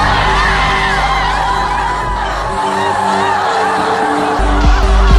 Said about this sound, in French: Vous entendez des pleurs, non?